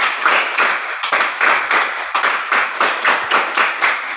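Children clapping hands together in the Indonesian rhythm game tepuk tiga-tiga-tujuh, a fast, loud, evenly spaced series of sharp group claps grouped in threes and sevens, close and clear with no talk.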